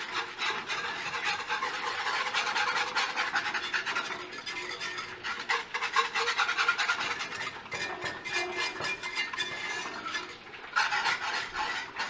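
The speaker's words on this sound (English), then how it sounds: "get a whisk quick and mix this up" Whisk stirring a sauce mixture for meatballs in a bowl, a steady run of scraping, rubbing strokes for about twelve seconds, close and moderately loud with no talking.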